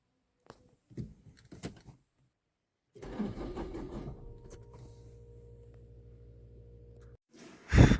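A tractor with a weak, discharged battery is cranked with the self-starter, a labored grinding crank from about three seconds that settles into a steady low idling drone for several seconds, preceded by scattered clunks and ending in a loud burst.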